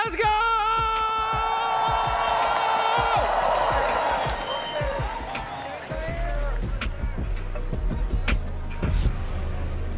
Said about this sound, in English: help me hype the crowd one more time